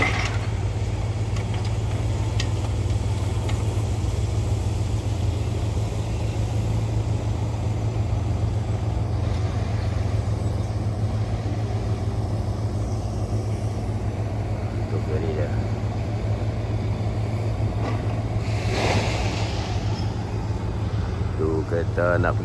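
At the Sungai Sian river ferry crossing, a steady low engine drone hums throughout while people talk nearby, with occasional faint knocks and rattles.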